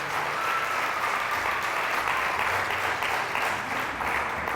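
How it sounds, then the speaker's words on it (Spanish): Loud, steady applause from a church congregation fills the whole stretch, dense and sustained without a break, honoring the Lord during a Spanish-language worship service. "Fuertes aplausos al Rey de Reyes y al Señor de Señores."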